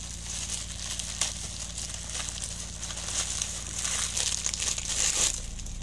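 A plastic package of double-sided tape is unwrapped close by, with continuous crinkling and crackling and a few sharper rustles throughout.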